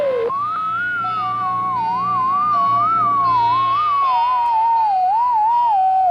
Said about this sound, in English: Probably some ham operator jamming the channel